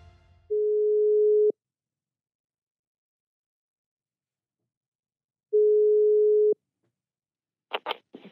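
A telephone ringback tone sounds while a call is placed: two steady, clear one-second beeps about four seconds apart, with a brief faint sound at the very end.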